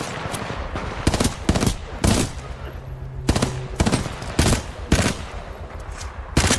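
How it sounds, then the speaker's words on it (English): Titanfall 2 Hemlock burst-fire assault rifle firing repeated loud three-round bursts at a steady pace, with short pauses between them and game sounds underneath. "Burst fire assault rifle? I'll give this a shot."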